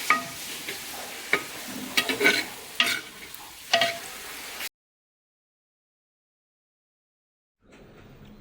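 Chicken frying in a pan for a Kundapur-style gassi, with close sizzling and several sharp stirring scrapes, then a stretch of silence before the frying returns faintly.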